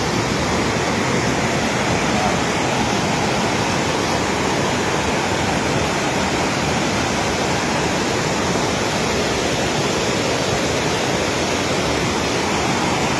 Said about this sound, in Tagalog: Ayan, taas ng agos.